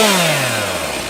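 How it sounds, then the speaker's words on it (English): A chainsaw runs in a garden, a loud, steady buzzing motor whose pitch slides slowly downward as it winds off, with no voices over it. "But then I heard a chainsaw."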